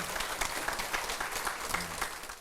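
An audience at a Buddhist dharma lecture applauds, a steady dense clapping from many hands that holds evenly throughout with no voices over it.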